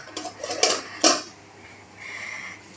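Metal kitchenware clinks and clatters as a lid is set on a pot during the making of basanti pulao: a few light taps, then two sharp close metallic knocks, followed by a quiet lingering hum; no speech.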